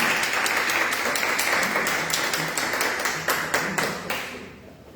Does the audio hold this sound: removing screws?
no